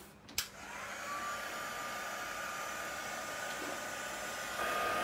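A hair dryer switches on with a click and settles into a steady, close whooshing hum, blowing over wet paint on an art journal page, with no one talking.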